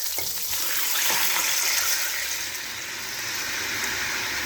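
Red wine hits a hot pot for an Italian pot roast, giving a steady, loud hiss and sizzle. The sound runs unbroken across the whole moment, swelling slightly and then easing, with no voices.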